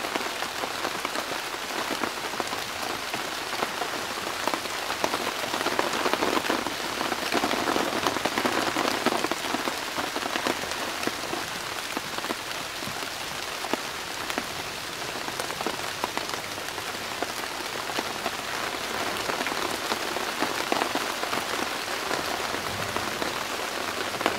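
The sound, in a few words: heavy rain falling in the woods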